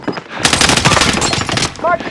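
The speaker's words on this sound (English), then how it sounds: "Shooting at me." Automatic gunfire in Call of Duty: Modern Warfare, a sudden loud burst of rapid close shots that continues steadily, with a short voice heard near the end.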